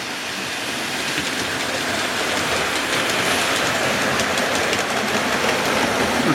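A model railway train runs on a layout, giving a steady, fairly loud rumbling clatter of wheels on track that builds slightly as it goes, with no talk.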